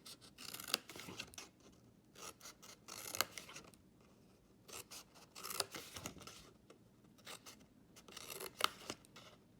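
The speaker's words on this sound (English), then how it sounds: "So if you just cut down to the score line," Scissors snip through scored paper card in a quiet room, a run of short crisp cuts in irregular bursts with small pauses between them, close and fairly soft.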